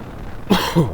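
A short, muffled cough bursts out twice against a low background hum, close and brief.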